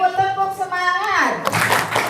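An audience of teachers claps a quick rhythmic group clap chant led by a speaker, a brief sharp burst of many hands following a woman's spoken cue.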